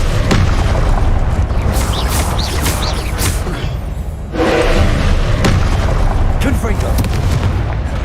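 Several Confringo spell explosions in Hogwarts Legacy boom and thud one after another through loud, dense game combat noise, with a short dip in the middle before another heavy blast.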